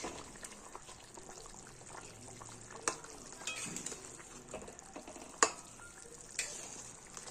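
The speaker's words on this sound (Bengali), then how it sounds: "ঝোল পুরো ফুটে গেছে।" Fish curry broth with cauliflower and potato bubbling in a pot, a soft continuous simmering hiss with occasional clinks of a utensil against the pot.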